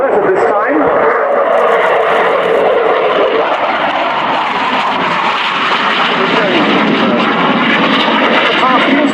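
A Swiss Air Force F/A-18C Hornet jet roars loudly and continuously through an air show flying display, its engine noise a dense, steady rush filling the scene while a commentator talks over it.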